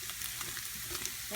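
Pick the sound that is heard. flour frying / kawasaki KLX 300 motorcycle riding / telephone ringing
flour frying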